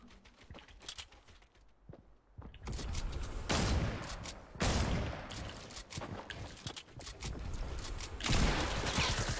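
Repeated shotgun blasts from a battle-royale style video game, loud bursts of gunfire in close succession over about nine seconds, with other game action sounds mixed in.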